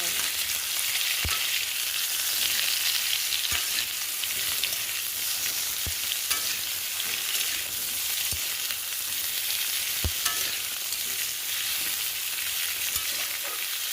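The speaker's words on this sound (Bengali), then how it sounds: "কড়াইতে আলু আর কুমড়োটা দিয়ে বেশ করে নাড়াচাড়া করে ভেজে" Potatoes and pumpkin sizzle steadily in hot oil in a wok with five-spice seasoning, a continuous loud frying hiss broken by occasional sharp scrapes and taps of a stirring spatula.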